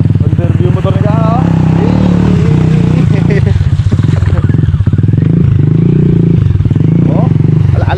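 A motorcycle engine idling and revving on a farm during a vegetable harvest, loud and close, with a steady low throb and bursts of clatter while people talk over it.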